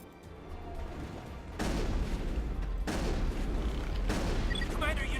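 Gunfire in Mass Effect, a sci-fi shooter video game, comes as sustained loud volleys that start abruptly after a quieter opening and continue with sharp bursts. Speech is faintly present.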